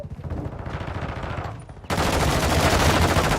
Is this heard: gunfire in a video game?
yes